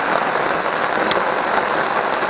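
Heavy storm rain drums steadily on a tarp and runs off its edge, making a loud, even, continuous patter with no pauses.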